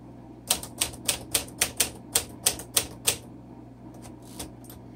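Typing on a 1951 Smith Corona Silent manual typewriter: a quick, even run of about ten crisp key strikes, then a few fainter, scattered taps, close up with no speech.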